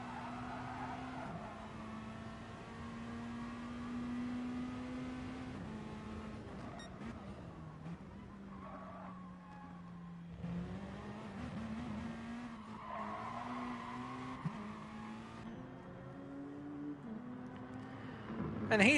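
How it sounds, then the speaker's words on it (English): A Peugeot RCZ race car in Gran Turismo Sport racing with its turbo engine working, a steady engine drone rising and falling with gear changes and tire squeal throughout, with commentary voices talking over it. "you can hear the sound of that RCZ and its turbo going to work"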